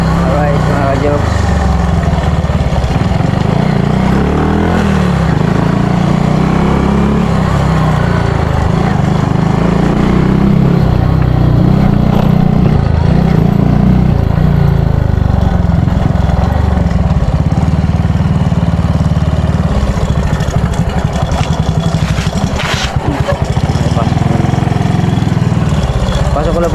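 A motorcycle engine runs steadily as the bike is brought in, a loud continuous idle-like rumble throughout, with background voices and some rattling near the end.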